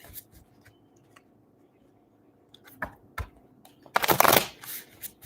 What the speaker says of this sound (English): I decided to stop closing my eyes when I shuffle. Just want to shuffle.